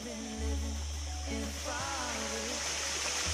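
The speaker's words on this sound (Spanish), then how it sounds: "El agua caer, una cascada." Water falls in a cascade into a pool at a natural site, a steady, broad rushing wash running throughout under a low hum.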